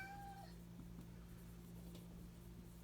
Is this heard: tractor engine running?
no